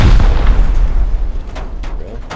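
Rockets explode during a raid in the survival game Rust, with a heavy booming blast up front that decays into rumble, followed by a few sharper distant cracks and pops.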